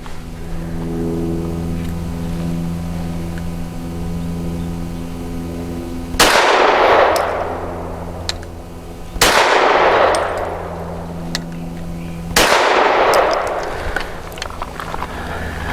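A Walther PDP 5-inch compact pistol fires Blazer 115-grain aluminum-cased rounds: three loud, sharp shots spaced about three seconds apart, each with a ringing decay, over a steady low hum.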